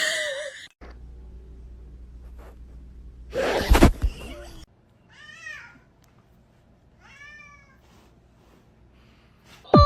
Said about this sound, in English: The cat got his fucking head stuck in the chair.